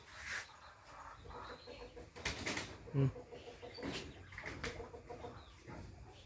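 Chickens cluck and squawk close by amid bursts of rustling and flapping, with faint voices in the background.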